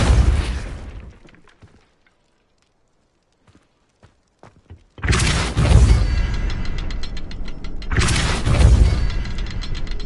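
A Depulso spell cast in the video game Hogwarts Legacy lands as a loud booming impact, then a rumbling crash resonates and fades, followed by scattered thuds and a second heavy burst of magical force.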